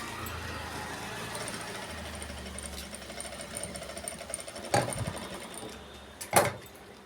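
Sewing machine stitching a raw silk blouse, a steady low mechanical whir running throughout at moderate level, with a couple of sharper clicks or knocks near the end.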